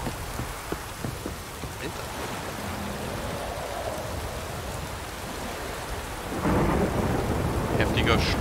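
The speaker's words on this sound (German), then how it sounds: "Heftiger Sturm." Heavy storm in The Witcher 3, with steady loud rain and rumbling thunder swelling louder toward the end, all without talk.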